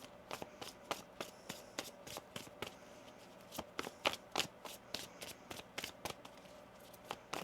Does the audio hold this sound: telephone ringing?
no